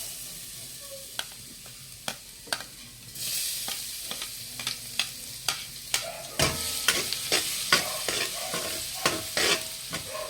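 Bopes, pork lungs, being stir-fried with radish in a hot pan, a steady sizzle broken by repeated sharp scrapes and clacks of a spatula, growing louder and busier in the second half.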